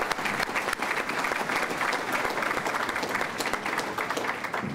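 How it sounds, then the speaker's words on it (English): Steady audience applause at a banquet, many hands clapping in a sustained, even wash with no voices standing out. "So join me in a big round of applause for them."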